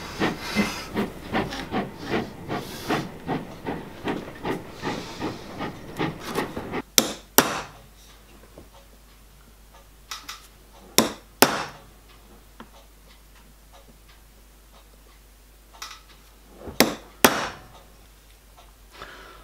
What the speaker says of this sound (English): First, I need to mark out and center pop the hole positions.